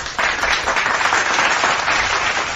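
Soundboard applause plays as a dense, steady wash of clapping, loud and continuous for a couple of seconds, with no voices over it.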